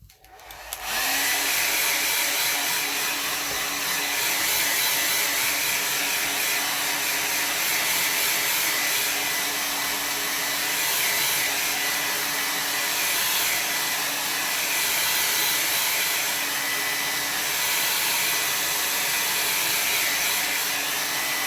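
A hair dryer blows steadily on a watercolor landscape painting, switching on abruptly and then holding a loud, continuous whooshing roar for about twenty seconds with no talking.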